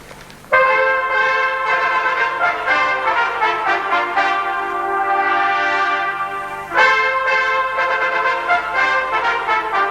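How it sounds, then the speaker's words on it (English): Cornets of a youth brass band, the Cheshire County Youth Brass Band, play together in a sustained, loud ensemble passage with a brief pause before the group comes back in full. "Let's hear all of the cornets together."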